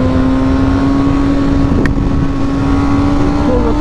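A motorcycle engine runs through a clutch downshift while riding. It holds a steady, loud hum under heavy wind buffeting, with one brief click partway through.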